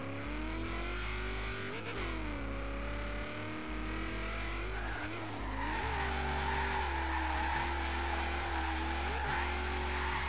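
Holden Commodore with a swapped-in V8 driven in Forza Horizon 3, its steady game engine note droning loud and continuous with rises and dips as it revs, with faint tyre squeal under it and no talk.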